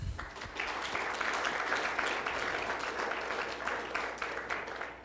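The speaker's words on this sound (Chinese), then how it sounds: "然后让我们鼓掌，谢谢他。" An audience at an open day opening ceremony claps together in a dense, steady round of applause for sponsor HP Enterprise, moderately loud and sustained.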